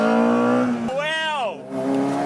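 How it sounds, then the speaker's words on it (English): A small Honda-engined Mini with VTEC runs on a tight track, its engine note climbing sharply as the cam switches over, then dropping back to a steady drone, with a voice speaking over it. "But then when the VTEC kicks in,"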